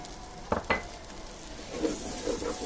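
Fried rice gets stirred in a hot pan as raisins and dried plums go in: two sharp clinks of a utensil early, then soft scraping and sizzling stirs close by.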